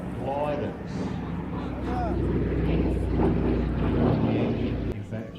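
Li-2 propeller aircraft flying at an airshow, a continuous droning engine rumble with wind buffeting, heard under someone talking throughout.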